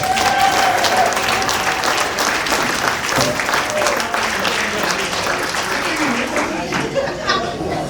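A stand-up comedy club audience gives a sustained round of dense, enthusiastic clapping that stays strong throughout, with some murmuring voices mixed in.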